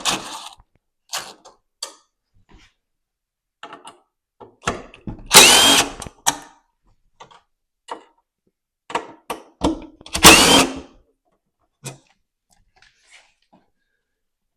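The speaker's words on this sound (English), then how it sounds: "now we're gonna go underneath with the screw gun here" A power screw gun drives bumper screws on a Polaris Matryx snowmobile in short separate whirring bursts, two of them longer and louder, with scattered clicks and handling noises between.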